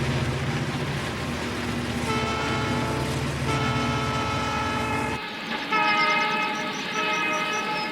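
Southern Pacific freight train hauled by five engines over a 7,000-foot Sierra Nevada pass toward Donner Pass, a loud steady rumble of locomotives and rolling cars with sustained horn tones, shifting partway through to a brighter ringing horn blast.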